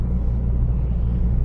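Saab 9-5 Turbo4 engine, a roughly 300-horsepower car, giving off a steady, loud low rumble that holds evenly without clear rises in pitch, heard up close with no voices.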